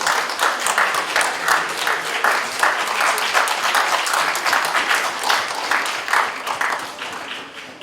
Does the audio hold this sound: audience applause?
yes